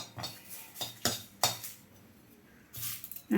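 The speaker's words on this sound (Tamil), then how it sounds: "கருவேப்பிலை அதே மாதிரி போட்டு ஒரு வறுக்கணும்" Curry leaves dry-roasting in a pan for idli podi, with a few sharp spatula scrapes and clinks against the metal at irregular moments, close and fairly quiet, and no talking.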